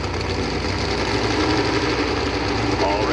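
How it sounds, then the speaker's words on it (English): Steady loud engine roar of a two-wheel-drive modified pulling truck revving at a truck and tractor pull, dense and continuous with a commentator speaking over it. "All revved up, waiting for the signal from the starter"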